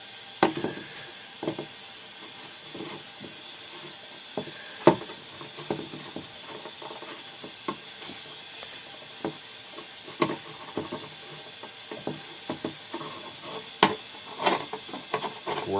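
A tubing cutter is worked around 3/16 steel brake line tubing, giving a quiet series of irregular metallic clicks and scraping rubs, close up and alone, with no talking.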